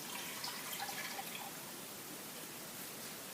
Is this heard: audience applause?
no